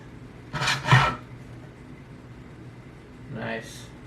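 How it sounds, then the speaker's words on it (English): A small hand saw cuts wood for an aquarium stand, giving two quick rasping strokes close by, then a pause and one more softer stroke. "we get to use these little saws here, these hand saws"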